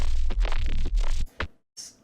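Unprocessed, stretched bass sample from a music production project, heard as a few loud rough pulses that thin into short fragments and a faint high tail, with no talking.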